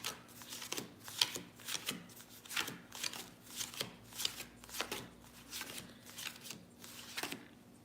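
A deck of playing cards being shuffled, a close series of about a dozen quick riffling bursts in a steady rhythm with no talking.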